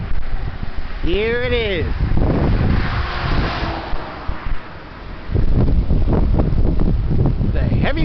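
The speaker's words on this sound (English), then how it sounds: "The heavy wind." Strong wind blows outdoors, rumbling low and buffeting the microphone in steady gusts, with a person speaking briefly over it.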